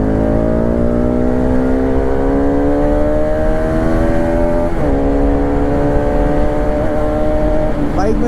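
An eight-year-old Bajaj RS 200 BS3 motorcycle engine pulls steadily under acceleration on a road ride, its rising whine climbing gradually with a brief shift dip near the end, loud and close throughout without talk.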